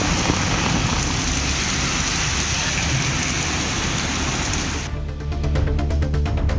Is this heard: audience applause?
no